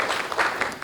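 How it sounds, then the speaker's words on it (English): A conference audience gives a short burst of applause after a speaker, a brief, fairly dense patter of clapping heard for under a second. "a great round of applause to you again"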